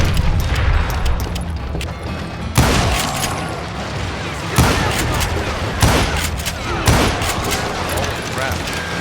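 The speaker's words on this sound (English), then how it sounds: "Why are these shots not hitting?" Gunshots ring out in Call of Juarez: Gunslinger, a Western shooter, with several loud, sharp reports a second or two apart over a busy bed of gunfire, music and voices.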